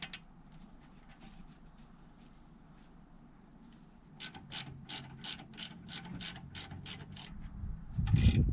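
A ratchet clicks in a quick rhythmic series of about a dozen strokes, close and crisp, tightening bolts while a brake caliper is installed on a Peugeot 307, after a quiet stretch of faint handling noise and ending in a louder clunk.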